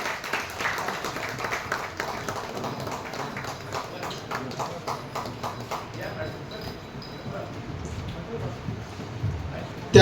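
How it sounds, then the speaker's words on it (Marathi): Loud applause rises for award winners at an awards ceremony, steady clapping from a crowd with some voices mixed in, easing slightly toward the end. "या सर्व पुरस्कारकर्त्यांसाठी जोरदार टाळ्या वाजवून त्यांचं अभिनंदन करावं"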